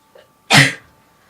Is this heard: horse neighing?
no